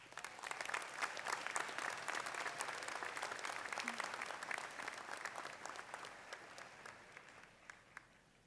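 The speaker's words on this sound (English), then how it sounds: "So let's give our families a round of applause." A large audience applauds police academy graduates' families at an NYPD graduation ceremony, steady dense clapping filling the hall before gradually thinning toward the end.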